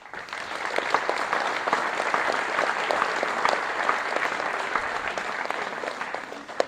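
An audience gives sustained, steady applause for young performers at a municipal New Year's address in Coulaines, France, with many hands clapping densely and evenly throughout.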